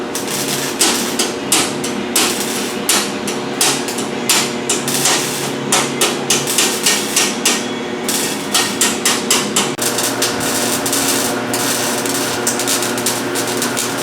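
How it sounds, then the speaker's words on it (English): Rapid, ringing metallic hammer-and-dolly blows shaping sheet metal on the rear side of a car cab, struck in quick irregular bursts with brief pauses, close and loud with a steady workshop hum beneath. "There'll be some hammer and dolly to get this to nice shape"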